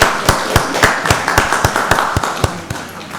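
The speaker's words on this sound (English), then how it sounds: "Give her a round of applause" Steady, sharp individual hand claps at a county board of commissioners meeting, a regular rhythm of about three per second, close and fairly loud with little else beneath.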